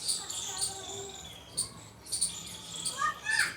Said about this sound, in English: Birds, a lot of birds at your place.